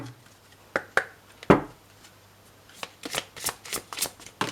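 Oracle cards are shuffled by hand in a quiet room, a few separate slaps and riffles at first, then a fast run of crisp close card flicks.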